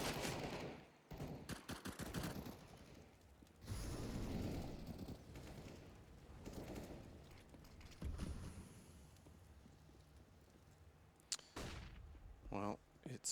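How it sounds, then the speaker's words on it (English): Rapid SMG gunfire in a Counter-Strike match on the Inferno map, with dense bursts of shots and mechanical clatter running under excited commentary. "64 bullets of doom fired from that SMG that do about approximately 3 damage per bullet."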